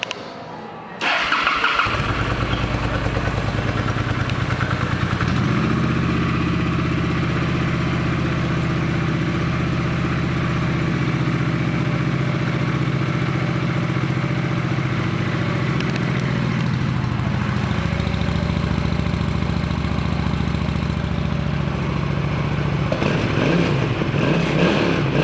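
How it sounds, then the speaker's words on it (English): A 2010 Honda Shadow 750 Phantom Edition motorcycle engine starts up and settles into a steady, loud, close idle with a deep low rumble, running alone for about twenty seconds with a slight change in tone near the end. "This 2010 Honda Shadow 750 Phantom Edition is an outlet motorcycle"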